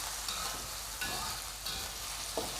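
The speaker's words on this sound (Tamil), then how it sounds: "இஞ்சி பூண்டு பேஸ்ட்டு சேர்த்து நல்லா வதக்கிக்கலாம்." Ginger garlic paste sautéing in a pan for spicy chicken cauliflower, giving a continuous dense sizzle with soft scrapes of stirring, close and steady and with no voices.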